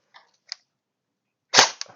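An electric M16A1 BB gun from Golden Eagle firing, a single sharp snappy shot close up after a couple of faint mechanical clicks, with a short rattle afterward.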